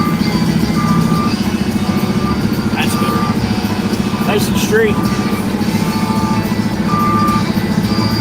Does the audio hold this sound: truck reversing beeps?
yes